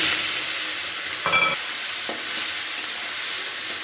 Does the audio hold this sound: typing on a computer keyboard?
no